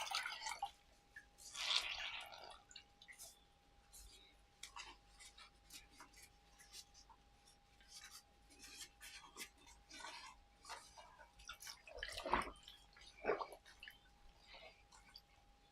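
Water drips and splashes intermittently as dyed fabric is squeezed in a cold-water rinse, with a few louder wringing bursts and quiet handling sounds, no talking.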